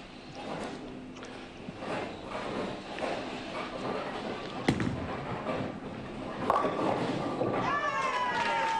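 A single sharp crash of bowling pins falling for a spare rings out in a tournament bowling alley, set amid a noisy crowd whose murmur and chatter carry on before and after the impact.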